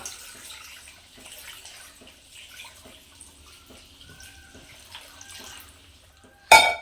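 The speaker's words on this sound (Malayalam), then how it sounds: "വെള്ളം ഇട്ട് കേട്ടോ" Water trickles and pours faintly into a pot of salted cassava, soft and steady, ending with a sharp clunk.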